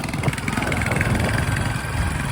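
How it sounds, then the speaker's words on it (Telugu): Hero Honda CD 100 motorcycle, abandoned for four years, running at a steady idle with a continuous chugging engine drone, close by, while someone talks over it. "బండి అయితే రన్నింగ్ అయితే బాగానే ఉంది."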